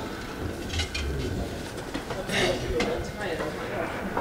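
Soft, rounded coos from a dusty pigeon rescued from a shop after a hawk chase, a few short calls close by amid rustling and handling noise, with people talking in the background.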